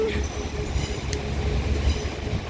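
A Class 802 and a Class 195 train run side by side at Liverpool Lime Street station, giving a continuous, close rail rumble with wheel clatter and a brief high squeal partway through.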